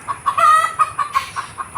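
A chicken clucks close and loud in a quick rhythmic series of short calls, with one drawn-out squawk near the start.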